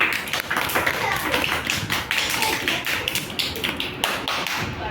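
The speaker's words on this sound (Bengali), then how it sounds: "হাততালি দাও।" Children and parents clapping hands together at an International Yoga Day event, a dense, continuous patter of applause under a voice talking nearby.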